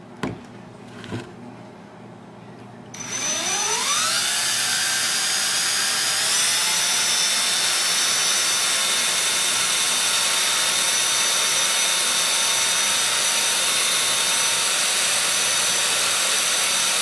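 A power tool spins up with a rising whine and then runs as a loud, steady high-pitched drone for over a dozen seconds, burnishing the edge of a handmade leather sheath.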